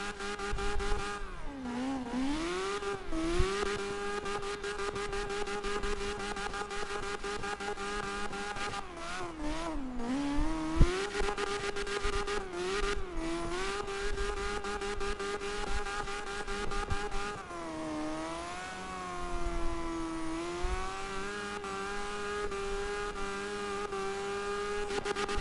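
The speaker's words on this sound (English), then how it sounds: "Pure drift." A car drifts in CarX Drift Racing, its engine note rising and falling through long revving sweeps, with tire squeal and skidding running continuously and no talk over it.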